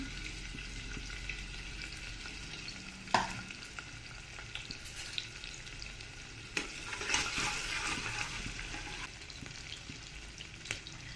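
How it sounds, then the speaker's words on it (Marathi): Onions sautéing in a pan for vegetable pulao give a steady close sizzle, with occasional stirring scrapes and clinks of a spoon against the pan, and no talking. "याच्यामध्ये आपल्याला कांदा टाकायचा आहे कांदाने खूप असा काही लाल होऊन नाही द्यायचा आहे आपल्याला एक दोन ते तीनच मिनटं परतवायचं आहे"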